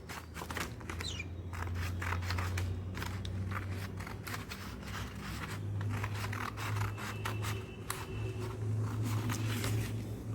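Scissors snip repeatedly through folded paper to make strips for a coconut shell craft, a close run of quick crisp cuts and rustles over a steady low background hum.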